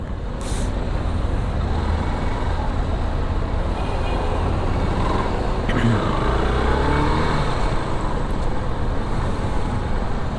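Steady road traffic noise on a busy street in Eastwood City, Philippines, with a continuous engine rumble and passing vehicles heard from a moving vehicle during a short ride.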